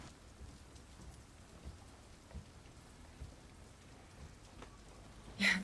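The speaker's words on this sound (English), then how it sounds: "Yeah, it's raining." Soft, steady rainfall with scattered drops and faint low rumbles, fairly quiet throughout, ending in a brief louder thump.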